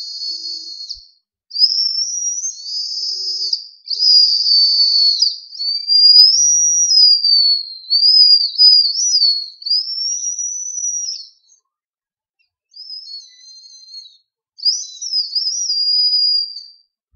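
A shrill, high Japanese Cordis whistle candy toots in a series of wavering, sliding notes, with short pauses between blasts, loud and close.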